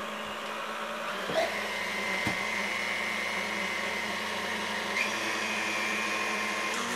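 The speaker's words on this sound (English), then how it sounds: "it blends for about 30 seconds, just on low, and then we'll put it a little bit on medium speed" A kitchen blender running on low speed while mixing light, powdery angel food cake batter for a turkey-recipe cooking show, a steady even motor hum throughout with a couple of faint knocks, and no voices.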